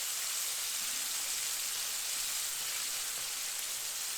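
Shredded chicken pieces crisping in hot fat during a second fry, giving a steady, even sizzle with fine crackle throughout and no voices.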